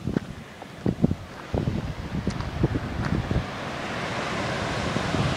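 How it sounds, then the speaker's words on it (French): Wind buffets the microphone over a steady wash of ocean surf at the shore, with irregular low thumps and gusts and no voices. "il y a un peu plus de vagues qu'hier"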